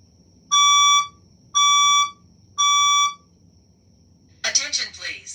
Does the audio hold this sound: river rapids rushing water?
no